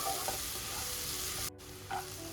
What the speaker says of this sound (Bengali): এরপর আমি অ্যাড করব একটা মিডিয়াম সাইজের কুচি করে রাখা পেঁয়াজ